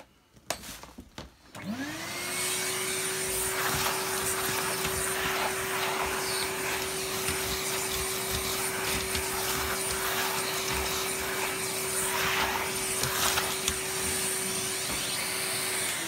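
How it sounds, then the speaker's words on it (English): A 2000 Samsung Wide Clean vacuum cleaner starts up with a rising whine, then runs at a steady, loud, droning pitch nearby for the rest of the time, sucking dust off a floor head. "vacuum this off"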